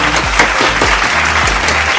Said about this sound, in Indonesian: Yuk, beri tepuk tangan untuk Tuhan Yesus kita.